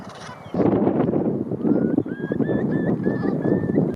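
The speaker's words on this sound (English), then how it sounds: "Lots of birds out today." Geese and other fowl honk and call repeatedly at a beach at sunrise, a busy cluster of nearby calls over steady background rush.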